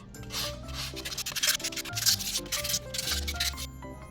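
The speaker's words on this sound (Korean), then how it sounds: "나무 받침의 표면을 깨끗하게 사포질을 해주세요." Steady sandpaper rubbing over a wooden pot trivet in quick back-and-forth strokes, with background music playing throughout.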